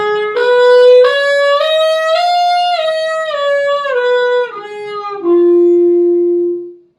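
Saxophone played solo and close, stepping through its overtone series up to the ninth overtone, a rising then falling run of about ten clear sustained tones, ending on a held lower note.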